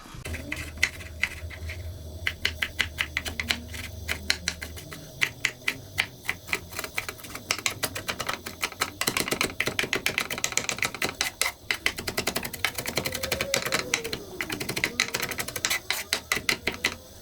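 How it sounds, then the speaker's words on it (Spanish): Knife chopping ingredients on a cutting board for a multipurpose salsa, a close, rapid, steady run of sharp taps that continues throughout without speech. "ahorita voy a picar esto"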